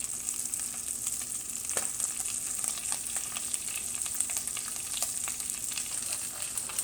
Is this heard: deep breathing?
no